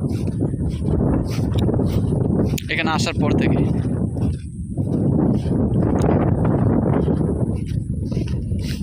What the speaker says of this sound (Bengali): প্রচুর বাতাস আজকে, এবং এই ঘূর্ণিঝড় রিমালের পর থেকে কিন্তু বাতাস হচ্ছে অনেক